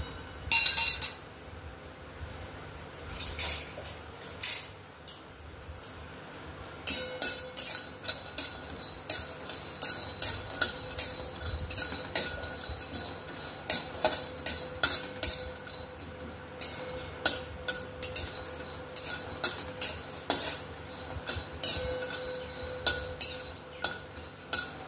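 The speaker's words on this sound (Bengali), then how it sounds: "এটাকে আমি সামান্য কড়াইয়ে একটু নাড়াচাড়া করে নিই।" Nuts and whole spices are stirred in a wok over a gas flame, giving irregular bursts of sharp metallic clinks and scrapes that come in quick clusters over a low background hum.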